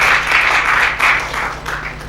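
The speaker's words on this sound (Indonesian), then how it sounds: "Tepuk tangan buat Tuhan." A church congregation at a Sunday service in Batam claps and applauds, a dense, continuous wash of hands that swells and ebbs in loose waves over about two seconds.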